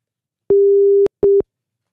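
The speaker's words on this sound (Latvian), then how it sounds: "Jā, nu zvanam Laurai." A telephone call tone sounds as a call is placed, one long steady beep followed by a short one after a brief gap, loud and clean with no speech.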